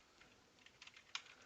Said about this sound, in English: I'm going to type in the class website